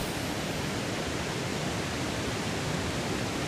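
Steady, dense roar of a waterfall near a village road in Vietnam, a broadband continuous rush with no breaks, heard close and loud throughout.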